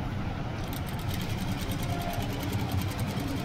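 A sewing machine runs steadily while stitching along the edge of thread piping on a blouse, a continuous close hum with a fast, even rhythm throughout.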